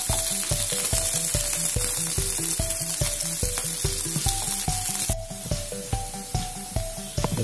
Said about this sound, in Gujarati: આ રીતે આપણે ચિપ્સ ને બધીને ફ્રાય કરી લઈશું એ બાજુ ફેરવીને.